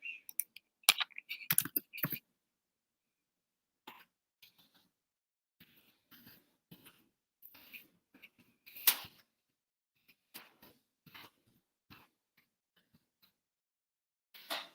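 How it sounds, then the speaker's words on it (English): Someone types an email address on a computer keyboard in bursts of quick close clicks, then sparse single keystrokes broken by silent pauses. "Let me just type my email here."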